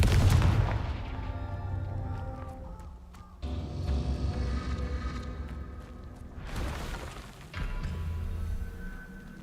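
Repeated spell blasts from the Confringo curse in Hogwarts Legacy, each a booming fiery explosion with whooshing tails, several loud bursts close together over a rumbling game soundscape.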